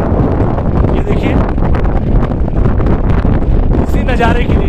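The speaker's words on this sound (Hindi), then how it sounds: "बहुत तेज हवा चली दोस्तों" Strong wind at high altitude in North Sikkim roars and buffets the microphone continuously, a loud rushing blast with gusty rumbling and no pauses.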